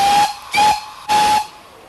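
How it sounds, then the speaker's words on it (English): A traction engine's steam whistle sounds three short, shrill blasts in quick succession, each with a breathy hiss of steam, loud and close with brief silences between. "take a blast from the past on the steam whistle of a traction engine"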